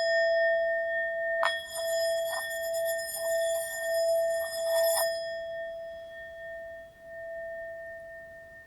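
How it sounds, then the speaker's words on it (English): A singing bowl rings with a clear sustained tone, struck or rubbed to produce a brief shimmering bright overtone burst partway through, then the steady hum lingers alone and fades slowly. "number 2 is going to be our singing bowl"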